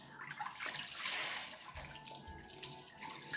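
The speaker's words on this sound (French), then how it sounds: "On va venir rincer." Tap water runs and splashes steadily while someone rinses their face at a sink, with broadband gurgling and spattering throughout and a few louder splashes near the end; no talk.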